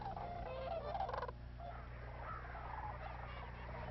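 Sandhill cranes and geese call faintly from a distant roost in open water at sunset, a thin scattered chorus over steady low background hum with no talk.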